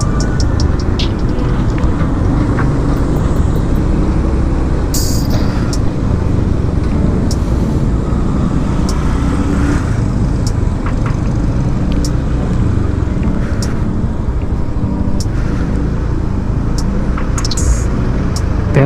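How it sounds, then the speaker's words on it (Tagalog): Road traffic flows through a city street in Naga City, Camarines Sur: a continuous loud rumble of passing vehicles with occasional sharp hisses and clicks, no talk heard. "Pero yung sitwasyon sa kalsada halos walang pagbabago, ganun pa rin. Marami pa rin sasakyan"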